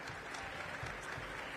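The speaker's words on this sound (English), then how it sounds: "Give a round of applause to all of these leaders that are here." Audience at a mayor's Latino Heritage Month celebration giving community leaders a dense, steady round of applause, heard from a distance and fairly faint.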